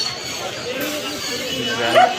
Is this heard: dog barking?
yes